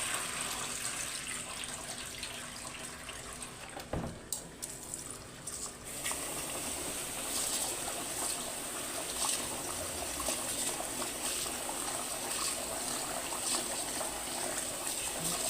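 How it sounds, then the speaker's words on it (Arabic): Water runs from a sink tap while rice is washed and drained, a soft steady trickle and splash with a brief clatter partway through, quiet and close. "هنغسل الرز حلو زي ما احنا ما بنغسل كده اهو ونصفيه"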